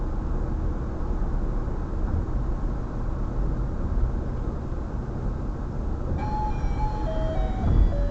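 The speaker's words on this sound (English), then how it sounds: "This is the sound of a garbage truck in Taipei" A Taipei garbage truck chimes a simple electronic melody over loud, steady engine and street rumble, the tune starting partway through.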